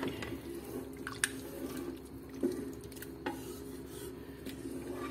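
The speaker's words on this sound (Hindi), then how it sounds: "अब हम इसके अंदर ये जो मैंने 2 लीटर फुल फैट मिल्क था ये डाल दूंगी" Two liters of full-fat milk poured into a pot of softened rice and carrots for Pakistani gajar kheer, a steady close pour with a few light clinks against the pot.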